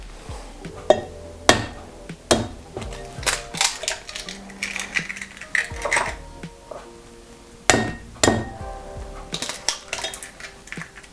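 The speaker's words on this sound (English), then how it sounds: "I'm gonna add the eggs first, so I have 2 eggs here" Two eggs being added to a bowl of mashed banana, with clinking taps and knocks of shells and utensils against the bowl, sharp close clicks scattered irregularly and no talking.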